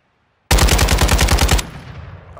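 Automatic gunfire in Call of Duty: Modern Warfare II bursts out of silence as a loud, close volley of about ten rapid shots, then cuts off into a fading echo.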